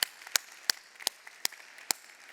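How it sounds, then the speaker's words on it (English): Church congregation giving their campus pastor a round of applause, heard as a handful of sharp, spaced claps, fairly faint with quiet gaps between them. "let's give Mike Camden a round of applause."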